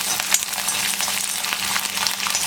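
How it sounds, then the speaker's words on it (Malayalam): Garlic cloves and dried red chillies frying in oil over a lowered flame while being stirred, a bright continuous sizzle with light scraping taps from the spoon, close and steady. "വെളുത്തുള്ളിയും വറ്റൽമുളകും ഒന്ന് സോട്ട് ആവുന്നത് വരെ ഇളക്കി കൊടുക്കുക"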